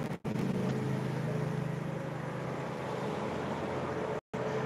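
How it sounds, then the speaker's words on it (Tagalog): Highway traffic rumbling steadily past a roadside home, a continuous low engine drone with vehicles passing one after another, moderately loud and unbroken apart from two brief dropouts. "harap ng highway kasi. Dami sasakyan."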